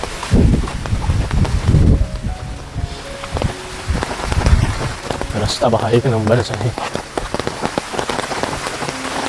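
Heavy monsoon rain pours steadily on a rural road near fields and a river, a dense continuous hiss under someone talking close by.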